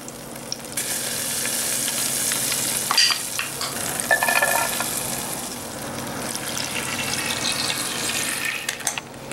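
A wooden spoon stirs molasses, A1 steak sauce, coffee and garlic powder in a pan with melting chocolate, making a continuous wet scraping and bubbling sizzle, close and steady, with no talk.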